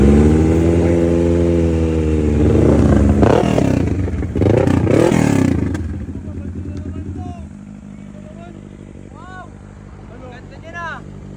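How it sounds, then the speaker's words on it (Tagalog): An inline-four superbike engine revs hard and loud, rising and falling, then settles to a rough idle with a few sharp blips while someone talks. "ito ang tinatawag na inline 4 na makina"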